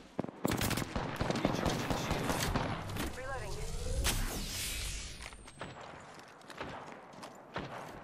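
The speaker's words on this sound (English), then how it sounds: "The enemies are shooting at me." Enemy gunfire in an Apex Legends firefight: rapid automatic bursts and sharp single shots crack close and loud, with whooshes and impacts mixed in and a player talking over the shooting.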